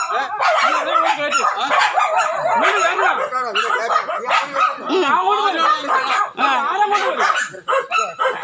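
Dogs bark and yelp repeatedly, close and loud, mixed with people talking over them.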